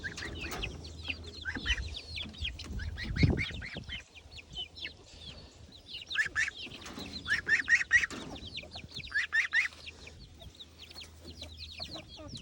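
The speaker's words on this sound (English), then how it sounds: "the chickens are having fun playing grub football." Chickens cluck and chatter in a backyard garden while they scratch for grubs near a goose, with a steady run of close, busy calls and occasional louder squawks.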